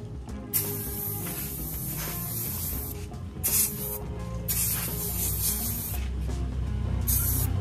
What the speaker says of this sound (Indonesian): Dan kita semprotkan.